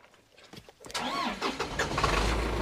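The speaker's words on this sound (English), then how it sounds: "We're going to grab the landscape truck. See, starts up" A landscaping crew's truck engine cranks briefly, catches and settles into a steady idle, close and fairly loud with no talk over it.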